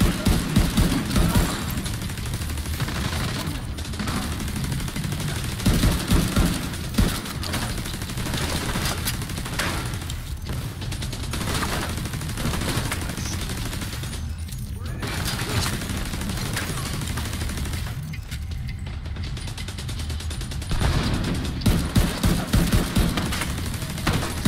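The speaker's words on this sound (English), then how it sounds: "Yeah, I love this gun." Sustained gunfire in Division 2 rattles on in rapid bursts with short pauses, loud and close, while a voice talks briefly.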